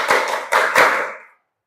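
Children in a classroom clap together for an ice-breaking count, three to four loud, slightly uneven group claps in a short burst before the room falls quiet.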